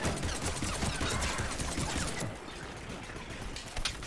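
A big gun fires in Mass Effect: Legendary Edition, a dense rapid rattle of shots with metallic mechanical clatter, loud at first and easing slightly after two seconds.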